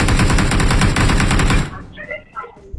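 Rapid automatic gunfire in the video game PUBG Mobile rattles loudly for about a second and a half, then cuts off into a short stretch of quieter clatter and game sounds.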